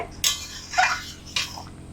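A metal lid lifted off a cooking pot of simmering ghugni curry, with a sharp clank, a louder rattling scrape a moment later and another clink as it is set down, no talking.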